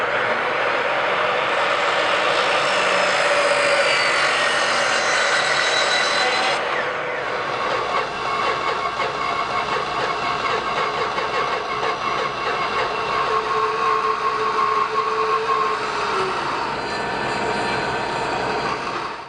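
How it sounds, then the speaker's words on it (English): A power saw cuts 23-degree miters on the ends of wooden end braces and feet for a contemporary trestle table, giving a loud, steady whining roar for about nineteen seconds that shifts in tone partway through. "I'm now going to cut my 23-degree miter on the ends of my end braces"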